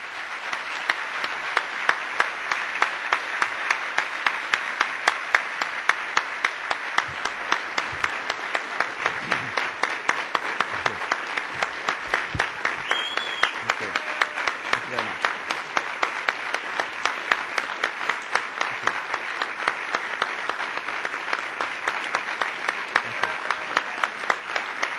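A banquet audience applauds steadily to welcome John Tory, a dense, even wash of many hands clapping that holds at a constant level for the whole stretch, with no voices rising above it.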